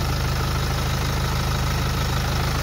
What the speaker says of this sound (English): I'll just keep quiet so you can hear the sound of the engine